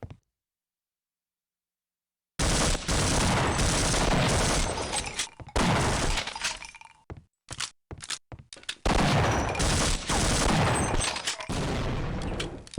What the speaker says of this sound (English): Who's throwing grenades?